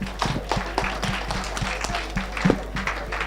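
An audience of children and adults at a climate summit claps together, a steady crowd patter of applause with scattered sharper claps and a low hum underneath.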